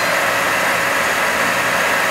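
A Mori Seiki NL2500MC lathe spindle turns at 2000 RPM, producing a steady, even mechanical hum that stays close and constant throughout, with no speech.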